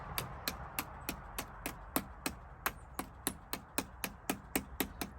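A small hammer taps on a car battery fitting during a battery upgrade in a Mazda RX-8, striking in a steady rhythm of about seventeen sharp, evenly spaced metallic knocks, close and moderately loud.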